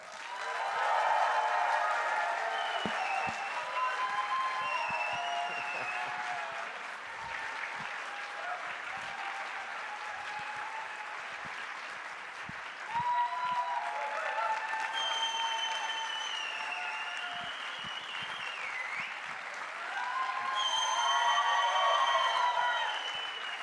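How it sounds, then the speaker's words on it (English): Thunderous audience applause at a comic convention main stage in Budapest, sustained clapping from a large crowd lasting over twenty seconds, with cheers and whoops rising above it, especially near the start and end. "with a thunderous applause"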